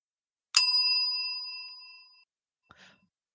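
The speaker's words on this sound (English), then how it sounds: "we have a little bell which dings like this." A small hand bell gives one clear ding that rings out and fades slowly over more than a second, followed by a soft breathy sound.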